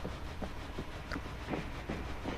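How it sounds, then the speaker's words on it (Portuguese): In a subway scene in the video game World War Z, a train's low rumble drones with faint, regular clicking of wheels over the track, moderately distant and fairly quiet. "não é possível que um trem desse aqui pra baixo"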